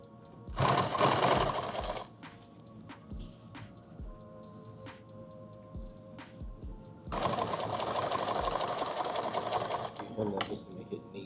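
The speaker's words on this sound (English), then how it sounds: "Just gonna make a small little hem here." A sewing machine stitches a small hem on a tactical magazine bag, two close bursts of rapid mechanical stitching separated by a pause with soft clicks and handling noises, as people talk nearby.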